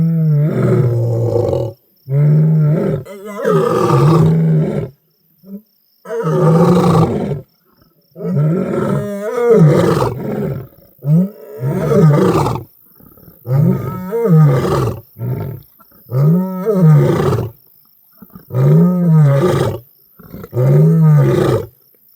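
Lions roaring, a Nharu lioness and a Red Road male, in a long series of deep, loud, close roars that repeat about every two seconds and build into grunting bouts, with no talk.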